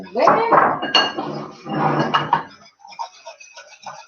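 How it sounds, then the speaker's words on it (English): A spoon clinks and scrapes against a pot while stirring a thick mixture, a series of close, bright metallic knocks in bursts, then quieter scattered taps. "just keep stirring and stirring and stirring"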